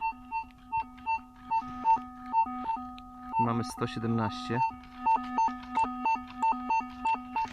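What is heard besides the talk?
metal detector signal tone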